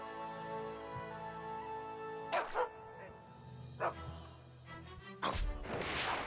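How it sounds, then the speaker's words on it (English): A junkyard dog in the video game South Park: The Stick of Truth barks in three or four sharp separate bursts over a low steady background hum of game music. "There's a junkyard dog that I need to defeat."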